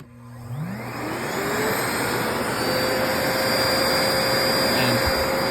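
A Miele vacuum cleaner switched to maximum suction starts up with a rising whine and settles into a steady, loud, close roar that runs alone throughout.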